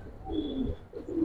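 Giribaz pigeons, with males among them, coo in low, throaty rolling bursts from close by, two swells of cooing with a short dip between them and no talking.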